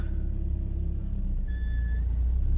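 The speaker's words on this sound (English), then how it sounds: "The car moves, the gearbox works, engine works." A car engine runs with a steady low rumble as the car pulls away in first gear, loud and continuous, with a brief beeping tone near the end.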